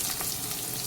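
Onion and spring onion frying in a pan for noodles, a dense, close sizzle and crackle filling the brief moment at moderate level.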